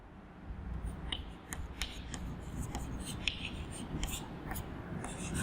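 Pen or chalk scratching out a maths solution for a class 8 linear-equations lesson: quick irregular strokes and taps, faint and close, with no talk.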